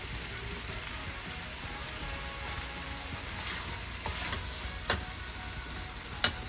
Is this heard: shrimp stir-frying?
yes